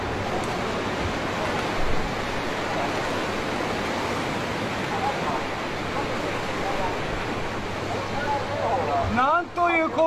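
Tsunami water floods through a town after an earthquake, a dense continuous roar of rushing surf and churning water that stays loud and unbroken for ten seconds, with brief faint tonal sounds near the end.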